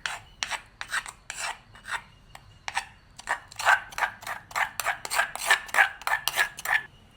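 A metal utensil scrapes repeatedly against a stone mortar while scooping freshly pounded ginger-garlic paste, a series of sharp rasping strokes, sparse at first then quicker and denser, close and clear without talking.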